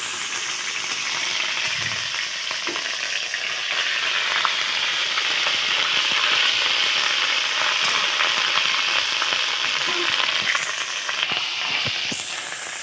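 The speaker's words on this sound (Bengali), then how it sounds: "ফোটনের ওপরে আদা বাটা দিয়ে দিলাম আদাটা একটু ভালো করে ভেজে নিতে হবে" Ginger paste fries in hot oil with a steady, bright sizzle and crackle that holds close and loud throughout, now and then broken by small pops and the faint scrape of stirring.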